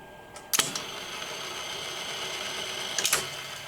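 Revox A77 reel-to-reel tape deck running in play, a steady mechanical whir with two sharp clicks of the transport near the start and again near the end.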